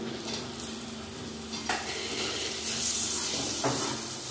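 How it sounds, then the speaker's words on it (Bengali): Chopped tomato is stirred into spice paste frying in oil for a prawn and taro stolon curry, giving a steady close sizzle with a few sharp scrapes of the spoon against the pan and no talking. "এখন দিয়ে দেবো টমেটো কুচি"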